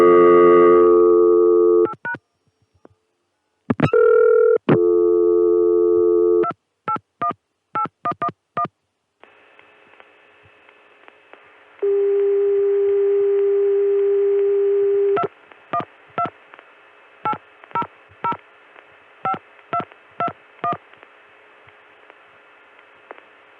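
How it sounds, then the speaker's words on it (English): On a 1980–81 Connecticut CCSA private telephone network, a few tone bursts give way to a steady dial tone with faint line hum, then a clear series of touch-tone digits is keyed in short separate beeps. "will then give us the CCSA dial tone from Connecticut again, and on that I'll dial 212-800-5221"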